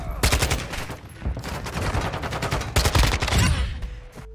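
Rapid automatic gunfire from a video game weapon, dense loud bursts of shots fired close with brief pauses between volleys, no talking over it.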